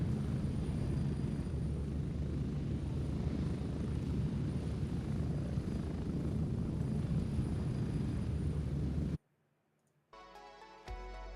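Helicopter lifting off in the military shooter Gray Zone Warfare, a loud, steady rotor and turbine roar filling the scene for about nine seconds before cutting out abruptly, followed by a brief quieter tonal passage.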